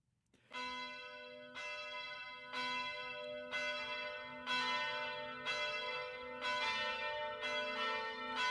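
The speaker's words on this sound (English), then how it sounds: "I always love that bell sound." A church bell tolls repeatedly at a steady, slow rhythm, each ringing stroke blending into the lingering hum of the last.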